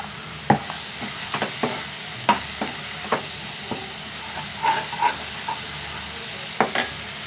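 Curry leaves and ginger paste fry in hot oil in a pan after mashed brinjal, a soft continuous sizzle punctuated by repeated spatula knocks and scrapes at an irregular pace, close by.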